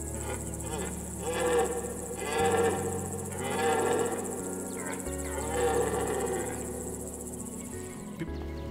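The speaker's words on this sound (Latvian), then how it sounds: "fonā ik pa brīdim dzirdama briežu rūkoņa" Red deer stags roar during the September rut in a forest, several long, drawn-out bellows repeating every couple of seconds at a moderate distance over a constant high chirring of insects.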